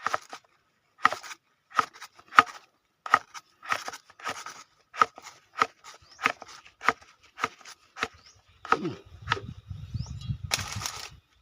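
A knife chops steadily through food into thin pieces in a quick, even rhythm of close, crisp cuts, followed by a brief rustle and scrape.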